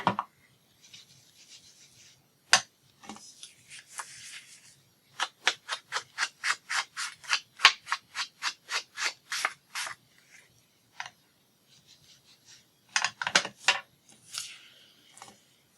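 An ink tool rubs across a paper craft piece in bursts of brisk, scratchy strokes, a fast regular run of about a dozen in the middle and shorter clusters before and after, close and fairly quiet with no talking.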